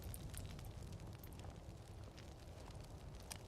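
Magical fire burning in a modded Skyrim game, a steady crackling roar with low rumble and scattered bright pops, continuous and fairly close for the whole stretch.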